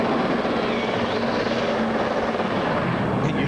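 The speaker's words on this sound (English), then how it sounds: "you hear that engine all over the rev limiter, Chip" A race car engine at the 2003 Rockingham pit crew competition, revving hard and bouncing off its rev limiter as a loud, continuous, buzzing roar with rapid stuttering pulses, close by and filling the whole moment.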